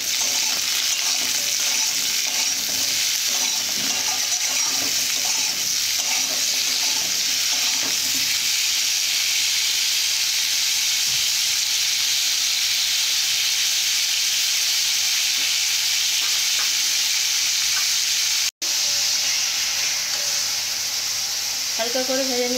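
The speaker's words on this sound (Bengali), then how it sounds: "এইভাবে ভালো করে ভেজে নেব" Vegetables fry in a pan for a vegetarian dish, a steady broad sizzle of hot oil running throughout with occasional stirring scrapes, close and loud, briefly cut near the end.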